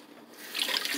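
Onions being rinsed under a running kitchen tap, a brief faint splash of water that swells halfway through and continues alone.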